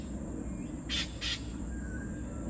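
Two short harsh squawks from angry female king parrots, close together in the middle, set against a steady background hum and faint outdoor noise.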